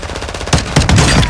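A quick burst of rapid gunfire in Warzone 2 cracks out loudly, several sharp shots in fast succession.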